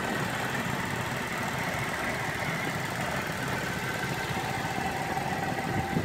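A 2013 GMC Acadia SLE engine idles with a steady low rumble, unchanging and fairly faint, with no one speaking.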